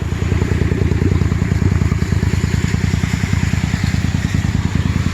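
A custom Mirage 250 motorcycle ridden through rain, its engine thumping in a steady, loud, rapid pulse close by for the whole stretch, with no voices over it.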